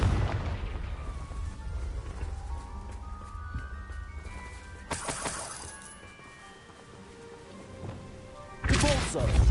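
Confringo explosion spell in Hogwarts Legacy: a sharp fiery burst midway through, followed later by another loud blast, set over a low rumbling game ambience with faint music.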